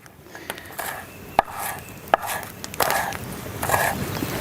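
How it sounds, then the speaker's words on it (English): Wild greens, alexanders and wild garlic, are chopped on a board outdoors with a knife in a quick, irregular series of close, crisp thuds, a few sharper knocks standing out. "Key to some good chopping is chop more."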